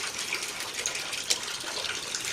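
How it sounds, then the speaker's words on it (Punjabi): Water gushes out through a hole in a hot water pipe, a soft continuous rushing flow with one brief louder splash partway through, no talking. "ਸੁਰਾਖ ਦੀ ਵਜ੍ਹਾ ਨਾਲ ਪਾਣੀ ਸਾਰਾ ਉਹ ਇੱਧਰ ਆ ਜਾਂਦਾ।"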